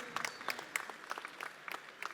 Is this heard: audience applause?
yes